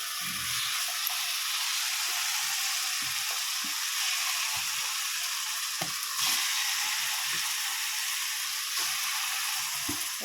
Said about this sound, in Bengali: মশলা ভালো করে কষা হয়ে গেছে তেলও ছেড়ে দিয়েছে এবার মাংসগুলো দিয়ে দেবো